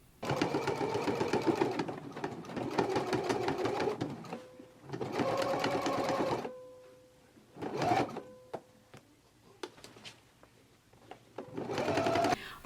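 A home sewing machine stitches a skirt waistband in place, its motor running in several steady bursts of a few seconds each, separated by short pauses and small clicks as the fabric is adjusted, close and clear.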